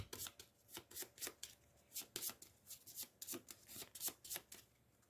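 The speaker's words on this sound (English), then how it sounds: "I will shuffle the boiler room cards again" Game cards from the Final Girl board game are shuffled repeatedly in quick riffling bursts, close up and quiet, with a steady rhythm and no voices.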